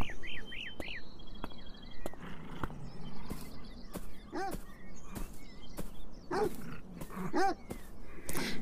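A dog in the video game Beyond Eyes, heard on a playground, gives a series of short, soft yips and barks spaced out over game ambience, with high chirping sounds and occasional clicks.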